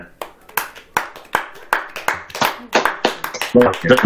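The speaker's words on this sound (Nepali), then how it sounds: "हामी उहाँलाई ताली बजाएर" A church congregation at a Pentecost youth fellowship claps hands in a steady rhythmic beat, loud and close, while a voice speaks over the clapping.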